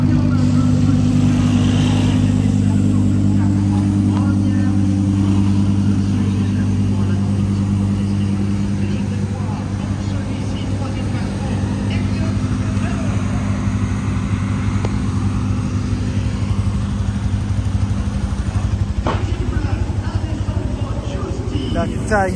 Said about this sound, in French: Il y a la safety car qui passe comme ça.